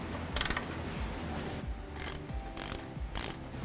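Ratchet wrench working 15mm bolts on a Ford F150 EcoBoost transmission mount, with rapid clicking bursts and metallic ratcheting between brief pauses, close and fairly loud.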